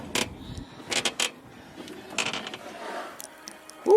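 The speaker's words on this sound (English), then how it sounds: "I hear people shoveling." Snow being shoveled outside during a Brooklyn snowstorm, heard as several separate scraping strokes at a moderate distance, with quiet gaps between them and no talking.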